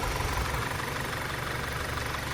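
An Audi TFSI automatic car engine idles at close range with a steady, even low rumble and no speech.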